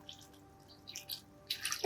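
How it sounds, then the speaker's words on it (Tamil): Water poured from a vessel into chopped tomatoes in a cooking pan, to be boiled for momo sauce; faint drips come first, then a short, close splash near the end. "கொஞ்சோண்டு தண்ணி ஊற்றி நல்லா பாயில் பண்ண போகிறோம்"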